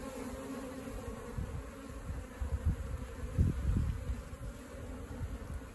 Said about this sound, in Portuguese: Soltar um pouco dessas abelhas aqui, gente.